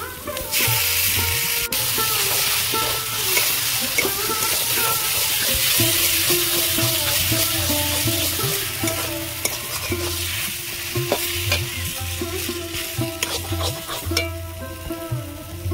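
Boiled potato and banana flower fry in a pan with a continuous hiss and sizzle, broken by repeated stirring clatters and scrapes that grow busier toward the end. A low hum runs throughout, with faint voices in the background.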